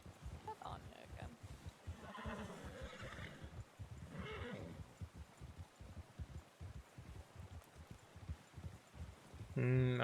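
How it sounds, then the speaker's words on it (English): A horse neighs and whinnies in the Red Dead roleplay game, with repeated breathy snorts and hoof clopping through a longer stretch of moderately loud animal noise. "That looked like a fleeing horse getting stuck behind something."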